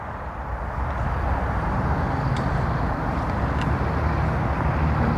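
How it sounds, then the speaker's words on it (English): Road traffic drones as a steady broadband roar during an outdoor morning hike, distant and continuous with no distinct passing vehicles. "There's a lot of traffic noise."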